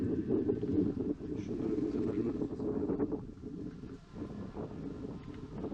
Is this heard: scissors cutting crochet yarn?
no